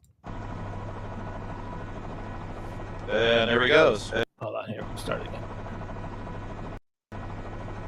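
A Chicago morning-news helicopter passes overhead, its steady rotor drone running under people talking and swelling louder midway before a brief cut.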